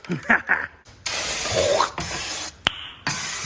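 A turbo spray can sprays undercoating onto a 1957 Chevy in several long steady hissing bursts with short gaps between them, after a brief spoken voice at the start.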